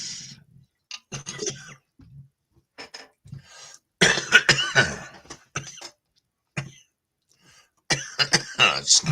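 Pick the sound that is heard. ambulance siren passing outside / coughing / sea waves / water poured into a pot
coughing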